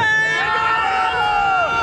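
Atlético Mineiro (Galo) football fans roar and sing together in a stadium, a loud, sustained wall of crowd voices with a rising and falling chant carried over the dense hubbub.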